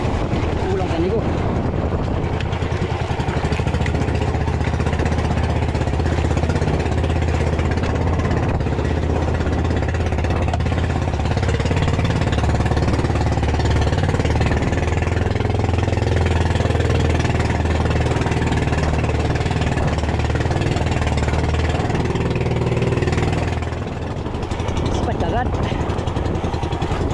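A motor engine runs steadily with a loud, constant low drone and rumble throughout, while wind buffets the microphone and people talk over it.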